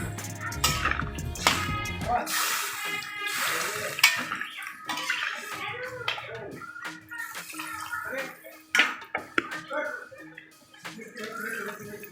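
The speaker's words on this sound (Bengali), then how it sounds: "জল দিয়ে দিব।" Water pours into a cooking pot for a Bengali fish curry with drumsticks and potatoes, a splashing, running wash with clinks of utensils that follows a brief low rumble at the start and continues for several seconds.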